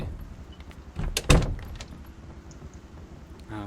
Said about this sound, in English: this door has been annoying the shit out of me. Because they open and close it every time they walk through here, and it's really noisy